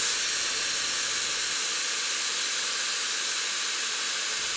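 A Shark Flexstyle hair styler blowing cold air: a steady, even airy hiss runs close and unbroken from start to finish.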